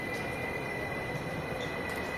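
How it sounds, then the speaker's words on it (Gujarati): A train at Tikkurila railway station in Finland gives off a steady low rumble with a sustained high whine, quiet and continuous throughout without talk. "તો બેઝિકલી આ આપણું રેલવે સ્ટેશન છે તિક્કુરીલાનું"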